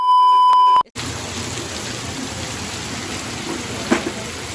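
A short electronic beep is followed by heavy rain falling outside in Dalhousie, a dense, steady hiss of downpour with a brief louder spatter near the end and no speech.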